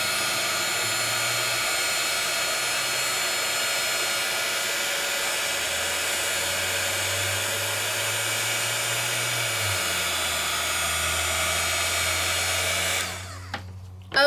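A heat tool blows a steady, loud whirring stream while melting embossing powder, holding constant with slight pitch shifts before cutting off abruptly near the end, followed by a brief clatter.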